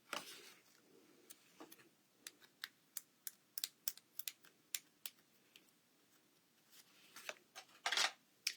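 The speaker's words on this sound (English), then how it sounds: "Just use my X-Acto knife to get that right off." An X-Acto craft knife slices through a piece of paper during card stamping, making a run of crisp, quiet ticks and scratches at close range with uneven pauses between strokes.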